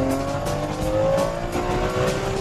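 A Ferrari 599 GTB engine drones loud and close, its pitch climbing steadily as it revs after a downshift.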